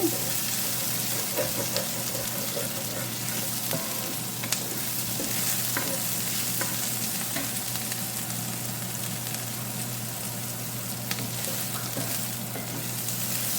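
Green onion sizzles in hot oil in a pan, a steady loud frying hiss with scattered scraping stirs throughout, while rice noodles are being prepared, and no one talks.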